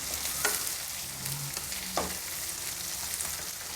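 Onions stirred and fried in a pan for tomato bath, a soft continuous sizzle with occasional scraping strokes of a spoon, close but fairly quiet, no talking.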